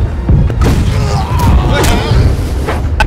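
Ship cannons firing in a naval video game, several heavy booms and thuds in quick succession, loud and close, with a voice briefly audible between blasts.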